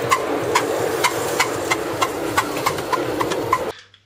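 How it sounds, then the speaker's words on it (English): A model steam engine runs with a crisp, evenly spaced exhaust beat, sharp chuffs repeating about twice a second over a steady hiss, close and fairly loud, then stopping abruptly. "If you want your steam engine to have a crisp beat, something like the large-scale locos and something like this"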